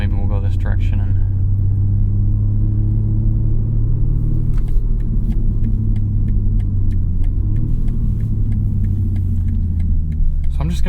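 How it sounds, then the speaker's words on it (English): A 2021 BMW M3 Competition's inline-six engine while driving, a steady deep cabin rumble and drone with a slight rise in pitch partway through, continuous and close, with faint clicks over it. "just drive this thing and let you listen to this wonderful inline six"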